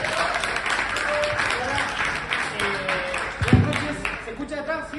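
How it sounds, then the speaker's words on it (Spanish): An audience at an Elixir programming meetup talk in Chile applauds, giving a steady wash of clapping with voices talking over it. "Un aplauso para él, por favor."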